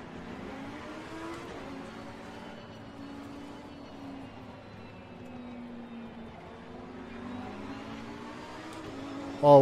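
Audi GT3 race car engine in the racing video game Assetto Corsa Competizione, a steady engine drone with slowly shifting pitch, moderately loud throughout, ending in a brief louder burst.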